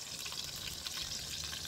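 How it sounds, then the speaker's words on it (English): Ribeye steak and artichokes sizzling on a grill, a steady, faint hiss and crackle of fat frying with no talking. "Look at it sizzling."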